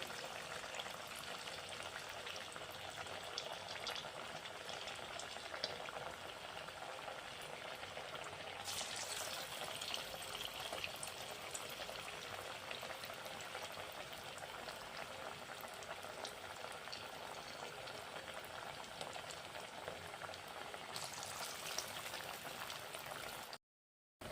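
Aloo pakora, battered potato fritters, frying in hot oil at medium heat, giving a steady, close bubbling sizzle that stays even for over twenty seconds before cutting off abruptly.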